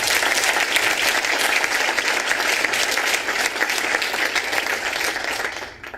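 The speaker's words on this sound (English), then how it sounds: "Now let's give a round of applause to Light of the Village," An audience breaks into loud, dense applause that holds steady for several seconds before tapering off at the end.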